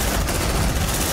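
Loud, continuous gunfire from the Aliens: Dark Descent video game, a dense unbroken rattle of shots with no pauses over a very short moment.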